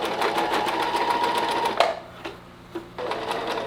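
A sewing machine stitches in quick, rapid bursts of needle clatter, pausing briefly and restarting several times at close range.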